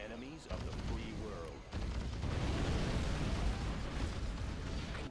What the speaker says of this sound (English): Okay, back off, because nuclear explosion equals bad.